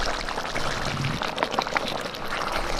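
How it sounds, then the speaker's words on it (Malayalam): Ghee poured into a hot pan for ghee rice gives a steady sizzling, bubbling hiss with faint liquid spatter, close and continuous throughout. "നെയ്ച്ചോറിന് വേണ്ടി നെയ്യ് ഒഴിച്ച് കൊടുക്കാം."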